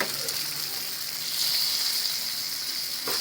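Pomfret fish frying in a pan gives a constant, dense sizzle, close and fairly loud, with a few small scrapes as the fish is turned.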